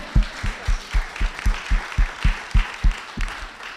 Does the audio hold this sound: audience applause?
yes